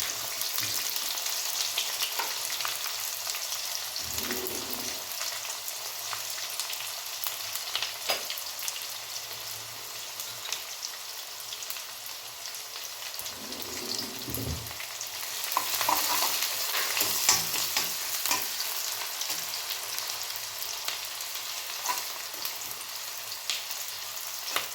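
Curry leaves and onion fry in a pan for a green gram gravy, giving a continuous oily sizzle at close range with occasional scrapes and stirring clatters from a spoon. No one speaks.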